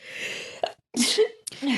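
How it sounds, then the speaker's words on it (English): A person sneezes loudly up close, with a sharp intake of breath before the explosive burst, then more breathy noise after. "hold on, I gotta sneeze."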